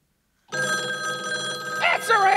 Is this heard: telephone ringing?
yes